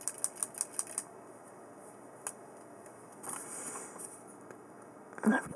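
A quick run of light, sharp taps on a watercolor paint pan opens the sound, followed by quieter scattered knocks and rustling handling at close range.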